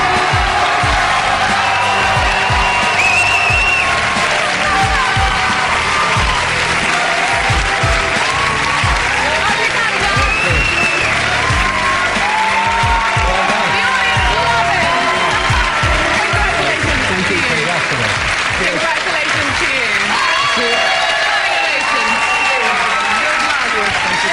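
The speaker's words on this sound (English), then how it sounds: "it's good to see your fellow competitors all standing to applaud you" An audience at the 2006 UK Eurovision national selection final applauds winner Daz Sampson with sustained, loud clapping and scattered cheers, while voices speak over the applause.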